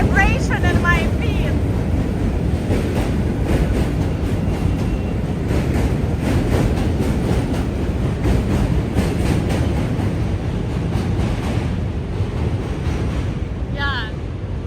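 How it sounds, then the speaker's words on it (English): Two subway trains pass each other on a New York City bridge between Manhattan and Brooklyn, a loud continuous rumble and rattle with wind buffeting the microphone and a brief squeal near the end. "We just have two trains crossing each other."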